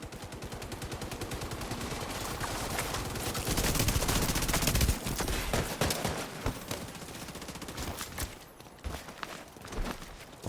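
Dense, rapid gunfire in the video game The Division 2, with rounds hitting the player's character during a PvP fight, sustained crackling bursts layered with game effects and impacts throughout.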